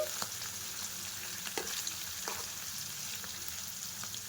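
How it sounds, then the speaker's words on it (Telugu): Prawns deep-fry in hot oil, giving a continuous fine bubbling sizzle with scattered small pops, fairly quiet and steady throughout, heard alone without speech. "వేసుకున్న తర్వాత వీటిని డీప్ ఫ్రై చేసుకోవాలండి"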